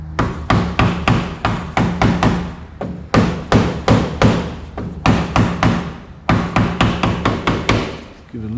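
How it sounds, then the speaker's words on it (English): Hammer taps on an aircraft fuselage during fabric covering on a Pacer restoration, heard as quick, loud, close strikes in bursts of several, with short pauses between groups. "Give it a little bit some encouragement with the hammer"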